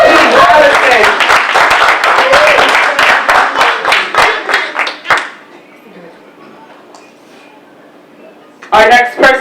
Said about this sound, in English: let's give a round of applause for Allison